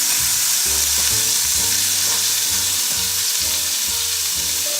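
Bacon and sausage frying in a pan with a continuous loud sizzle, overlaid by a droning tonal hum that steps in pitch, and faint stirring; no speech.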